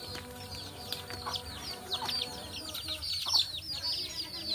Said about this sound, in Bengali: মোরগ আছে, হাঁস আছে,